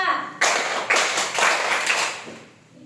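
Five hand claps in a classroom clapping game, loud and close, spaced roughly half a second apart, with a voice briefly audible at the start.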